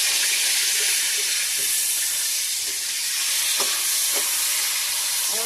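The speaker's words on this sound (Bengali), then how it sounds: "মাছের মাথাটা ভাজা হয়ে গেছে" Fish head frying in hot oil in a pan, a loud, continuous close sizzle and hiss with a few faint clicks of a utensil, no talking.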